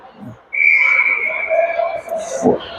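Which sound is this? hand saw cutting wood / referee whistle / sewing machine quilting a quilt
referee whistle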